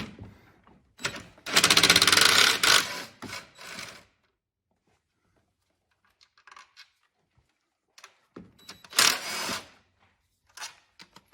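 Bursts from an impact gun spinning out 12mm intake manifold bolts on a 2016-2022 Lexus RX350, two loud rattling runs of a few seconds each separated by quiet, with brief clicks and clatter of metal parts in between.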